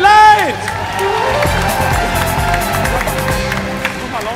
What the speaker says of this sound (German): Großer Applaus bitte trotzdem